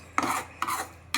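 A spatula rasps against a pan while stirring and sautéing cashew-based matar paneer gravy: two close, brisk scraping strokes with a third starting at the end, and no voices.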